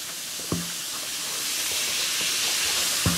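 Close, steady fizzing hiss from an LOL Surprise Bubbly Surprise bath fizzy dissolving in water, with a couple of small knocks or taps breaking through, no voices.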